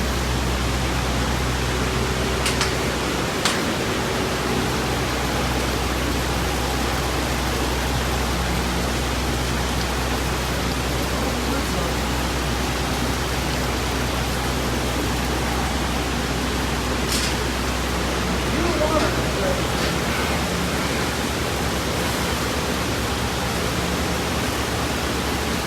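Water runs continuously through fish hatchery tanks near Stanley, Idaho, in the Sawtooth Mountains, a loud, even rushing that holds for the whole stretch with a couple of brief knocks.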